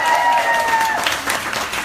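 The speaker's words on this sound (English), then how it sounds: "big round of applause for these ladies." Applause from a crowd at a swimwear pop-up party greeting the models, a dense burst of clapping close by that fills the short moment and tapers slightly.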